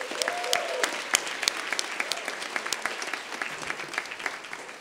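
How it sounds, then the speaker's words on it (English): A graduating class at a 2019 School of Public Engagement recognition ceremony breaks into sustained applause, many hands clapping at once with a few sharper claps and whoops standing out, continuing evenly throughout. "You definitely need to give yourselves another round of applause."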